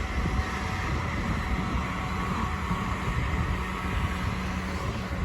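A passing train at Richmond or Clapham Junction makes a faint, steady low rumble and rolling hiss, quiet and even throughout with no voices.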